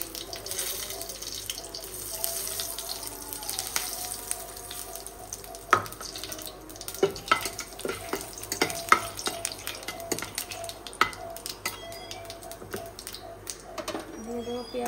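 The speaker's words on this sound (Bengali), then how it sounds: "এরপর আমি ফোড়ন দিয়ে চিকেনটা রান্না করবো" Bay leaf, dried red chillies, cumin, cinnamon, cardamom and peppercorns sizzle softly in hot oil as whole-spice tempering for a chicken dish, with light crackles and the occasional clink of a utensil stirring the pan.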